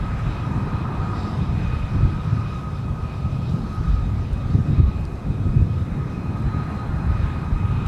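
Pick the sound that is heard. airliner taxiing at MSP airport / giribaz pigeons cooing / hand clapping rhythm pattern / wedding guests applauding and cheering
airliner taxiing at MSP airport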